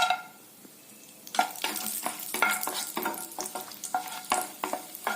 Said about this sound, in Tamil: நெய் விட்டுட்டு முந்திரியை வறுத்துக்கலாங்க.